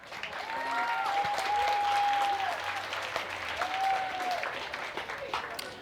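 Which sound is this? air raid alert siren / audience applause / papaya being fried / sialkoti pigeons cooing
audience applause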